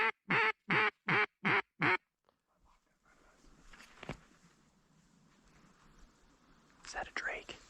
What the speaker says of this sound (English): Is that a drake?